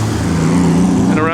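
A Ferrari pulls away from a checkpoint during the 2008 Mille Miglia road race, its engine holding a steady, close, droning note with a voice or crowd sound in the background throughout.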